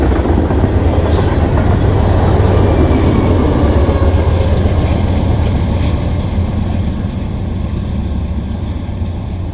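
A loud train with a pusher locomotive on the rear rumbles past close by, with steady low roar and wheel clatter throughout, no voices.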